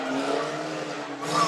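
A stock car at a race meeting swerves and skids out of control after its handbrake goes on, with loud, sustained tire squeal over engine noise that rises slightly at the end.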